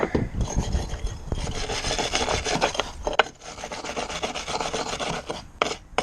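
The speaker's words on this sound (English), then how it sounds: "So we're using brake cleaner and a wire brush, just helps the majority of the shit off." A wire brush scrubs Aprilia RS125 rear wheel and shock parts wet with brake cleaner, giving continuous close rasping strokes with a short break partway through, and no voices.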